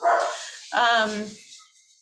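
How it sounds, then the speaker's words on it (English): Dogs at home bark close and loud: two sharp barks about half a second apart, the second longer and more tonal, tailing off into quiet. "I apologize for my dogs barking"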